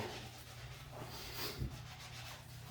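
Crocs shoes scrubbed with a washcloth, giving soft, quiet rubbing strokes that swish steadily for a few seconds with one slightly firmer pass midway.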